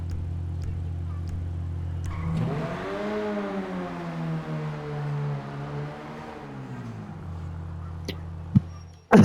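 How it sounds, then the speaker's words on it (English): A drift car engine in GTA V revs up and holds a rising, wavering tone for several seconds before dropping back to a steady idle, alone and fairly close. "Drift car."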